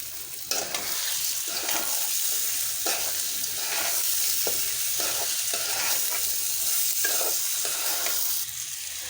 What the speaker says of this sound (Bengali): এখন আমি এর মধ্যে দিয়ে দিচ্ছি পোলাওর চাল